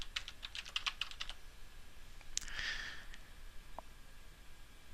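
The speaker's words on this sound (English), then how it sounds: "you want to type Hispanic" Keys are typed on a computer keyboard in a quiet room: a quick run of close, light taps, then a few scattered keystrokes after a short pause.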